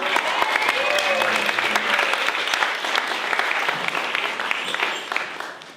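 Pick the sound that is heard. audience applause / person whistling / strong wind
audience applause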